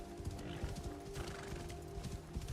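A horse in Assassin's Creed Shadows clip-clops in quick uneven hoofbeats and lets out a whinny, moderately loud and close, with no one talking.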